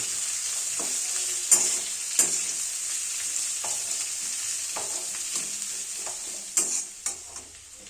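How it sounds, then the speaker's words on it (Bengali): Chopped onions sizzle steadily in hot oil with chicken while a spoon stirs them through, adding a few sharp scrapes and clinks against the pan over a constant bright hiss. "পেঁয়াজ কুচিগুলো ভালোভাবে মাখামাখি করে নেব এবং একটু নরম হতে দেব"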